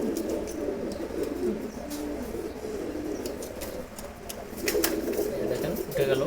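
A pair of red checkered pigeons coo in low, throaty repeated phrases nearby, with a brief flutter and faint background voices.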